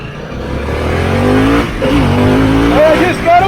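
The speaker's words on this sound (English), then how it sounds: "And I just got a wheelie." Harley-Davidson Pan America motorcycle revving hard in second gear as it lifts into a small wheelie, a loud rising engine roar with climbing pitch sweeps, close and continuous, with a rider's voice mixed in.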